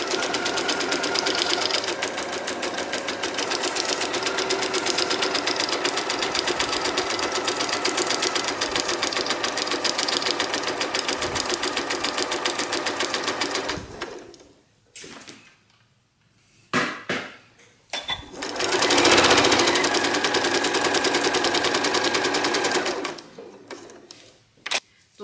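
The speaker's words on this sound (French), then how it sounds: "Ne le passez surtout pas à la surjeteuse hein, par contre, vraiment à la machine à coudre." A sewing machine stitching around the wicker cane panel of a tote bag, a steady continuous whir for about fourteen seconds, then stopping and starting in short runs before another long burst.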